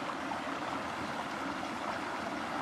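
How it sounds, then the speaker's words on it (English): Mississippi River water flowing past, a steady rushing burble of current, moderately close and continuous without any voices. "this is part of the Mississippi River you see here flowing down"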